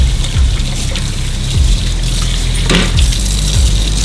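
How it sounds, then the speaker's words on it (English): Water runs steadily while the dirty parts of a NEAKASA PowerScrub II cordless vacuum mop are rinsed, a continuous close trickle and splash like a tap filling a sink. "Okay, so just rinsing everything off."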